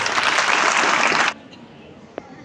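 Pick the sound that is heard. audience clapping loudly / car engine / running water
audience clapping loudly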